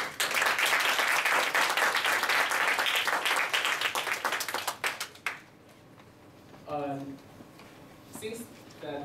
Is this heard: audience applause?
yes